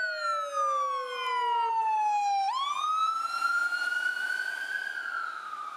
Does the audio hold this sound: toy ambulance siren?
yes